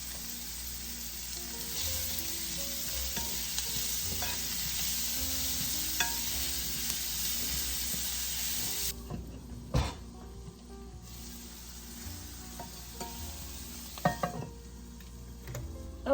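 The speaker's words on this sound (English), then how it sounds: "Now we're just going to saute this until it's cooked through." Zucchini sautéing with thyme in a pan, a steady close sizzle with stirring and utensil scrapes through the first half, then quieter scattered clinks and light frying with occasional louder knocks.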